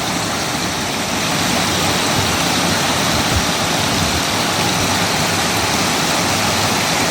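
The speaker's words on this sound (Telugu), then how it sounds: "ఎర్ర చెరువు మత్తడి దింపుతుంది చూడండి ఇంత చిన్నగా" Water spilling over the weir of Erra lake in Siddipet gives a steady, loud rushing cascade that holds evenly from start to finish.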